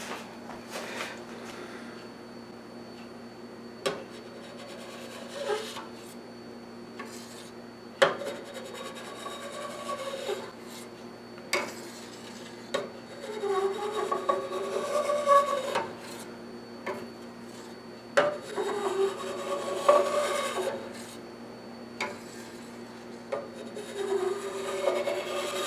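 Knife cutting mozzarella cheese curd underneath in a pot, with soft rubbing and scraping strokes and occasional sharp clinks of metal against the pot, repeated at irregular intervals over a steady low hum.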